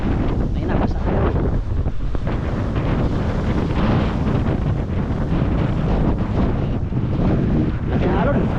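Big waves and strong wind batter a small outrigger boat in rough weather on the West Philippine Sea, with a constant roar of wind across the microphone and heavy surging water all the way through.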